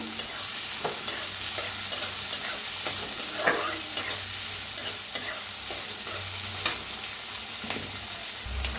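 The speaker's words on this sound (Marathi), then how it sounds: "बारीक कापून घेतलेला 1 कांदा, छान भाजून घेऊया" Finely chopped onion fries in a hot pan with a steady, loud sizzle, broken by the scrape and clatter of stirring.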